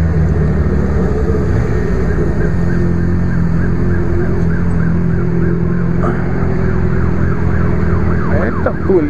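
Police vehicle siren wailing alongside motorcycles near a park portal, heard over constant loud engine and wind rumble, its rising and falling tone faint but repeated through the ride.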